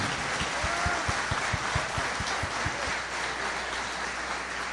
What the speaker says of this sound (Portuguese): pode aplaudir ao Senhor, pode aplaudir.